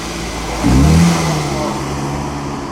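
A four-cylinder engine in a gull-wing classic car revs up sharply, holds a loud, steady drone, then eases off, heard close from inside the car at a concours event.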